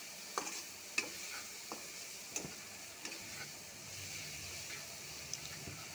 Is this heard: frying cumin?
yes